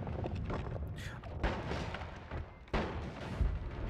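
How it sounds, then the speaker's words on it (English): A big explosion in the video game Noita, heard as deep booming bursts and thuds in quick succession, with a sharp hit near the end, loud and close. "Alright, big explosion down there already."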